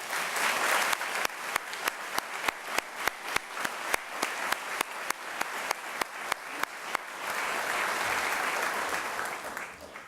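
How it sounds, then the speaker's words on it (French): A crowd at a graduation ceremony breaks into sustained applause, with sharp, rhythmic clapping standing out over the dense mass of claps before it evens into a steady wash. "Je crois qu'on peut leur donner une bonne main d'applaudissements."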